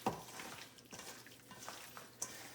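Hands mixing about 2.5 pounds of cut beef tenderloin in a bowl, a soft wet squishing and stirring that rises and falls in a few uneven pulses, close and fairly quiet.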